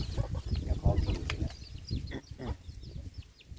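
Chickens clucking at close range, a run of short broken clucks and calls over low background noise, fading a little in the second half.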